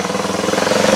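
Custom Bullet motorcycle engine revving up close, a brief loud pulsing throb with a steady rapid beat that rises slightly in pitch.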